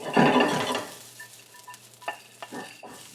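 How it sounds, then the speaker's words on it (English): Greens wilt in a quick sauté, with a loud burst of sizzle as they hit the hot pan, fading to a softer crackle broken by a few light utensil taps and scrapes. "this is just going to be a very quick, maybe 30-second saute"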